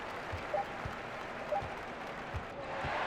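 Basketball arena crowd in NBA 2K18, Kings versus Raptors, a steady roaring wash of hometown fans with rhythmic claps and bursts of cheering swelling throughout, no talk over it.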